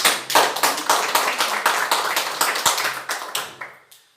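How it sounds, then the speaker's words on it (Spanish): Church congregation applauding during a sermon: a burst of hand clapping with distinct rhythmic claps, fairly close and loud, lasting about four seconds before tapering off into quiet. "Dale un fuerte aplauso al Señor."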